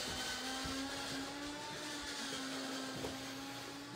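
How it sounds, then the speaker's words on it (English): An electric coffee grinder grinds coffee beans in a steady, continuous whir with a constant motor drone, close and alone without any talking. "My coffee beans are blending. Or doing whatever they do. They're grinding."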